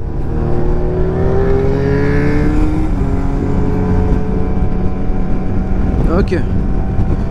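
A 2020 SYM Maxsym TL 500 maxi-scooter pulls away under acceleration, its engine note climbing steadily in pitch in a smooth continuous drone with wind rush, loud and close throughout.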